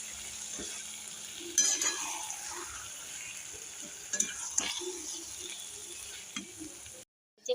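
Taro stolons are stirred and fried in spiced oil, giving a soft continuous sizzle with intermittent scraping and clinking of the stirring utensil against the pan, and the sound ends abruptly.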